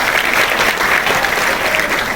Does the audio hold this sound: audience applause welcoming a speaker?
yes